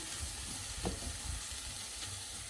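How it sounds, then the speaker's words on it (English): Chopped medium tomato going into hot olive oil for a fiddlehead vegetable curry, a constant close sizzle and frying hiss with a few faint stirring scrapes, no talking. "And now I'm gonna put my tomatoes and one medium tomato, chopped medium tomato."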